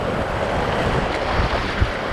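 Rushing river water from mild rapids while tubing on the Wairau River, a continuous broadband wash mixed with wind buffeting on the microphone, with no talking.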